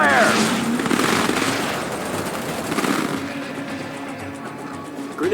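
Command & Conquer 3 battle with a grenade squad attacking: rapid bursts of explosions and gunfire-like crackle fill the first few seconds, then fade into a softer rumbling background with a voice over it.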